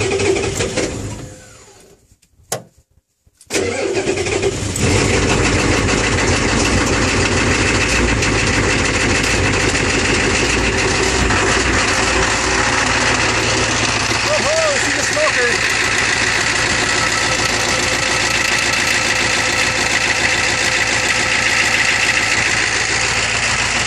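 A 1986 Ford E350 van's mechanically injected 6.9-litre diesel engine cold-starts after a brief crank and settles into a loud, steady clattering idle close by, running continuously.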